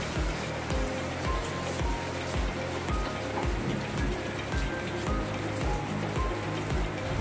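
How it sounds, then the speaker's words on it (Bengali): Heavy rain falls and drips in a loud, unbroken hiss, with a regular dripping pulse running beneath it. "আওয়াজ শুনতে পাচ্ছি, দেখুন টপ টপ টপ টপ করে পড়ে যাচ্ছে, প্রচন্ড বৃষ্টি হচ্ছে।"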